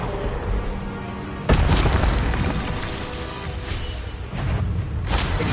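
A spell-cast fire burst from the Hogwarts Legacy game, a sudden booming whoosh at about a second and a half followed by a sustained roaring rumble and a second swell near the end.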